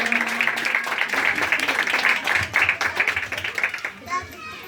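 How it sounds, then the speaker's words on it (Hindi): A church congregation claps to welcome a speaker at a gathering, brisk rhythmic applause with voices, including children's, mixed in before it tapers off near the end. "जी आगे को हम जोरदार तालियों के साथ वेलकम करेंगे"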